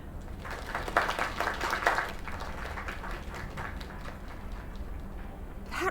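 A crowd in the game Lake claps and cheers in steady, dense applause at a bar celebration. The applause is loudest early on and then settles into a continuous patter.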